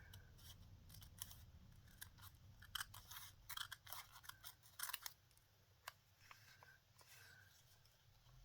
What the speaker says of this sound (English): I was just cutting paper.